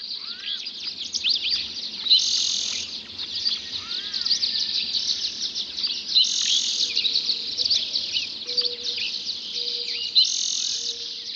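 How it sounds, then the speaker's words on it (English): Many birds sing at dawn in a canyon, a dense chorus of high repeated chirps and trills at moderate distance, with a soft insect hum beneath and no voices. "The first birds to sing are usually the ones perched highest in the tree canopy."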